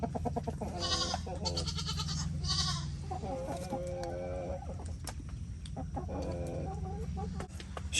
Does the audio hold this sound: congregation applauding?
no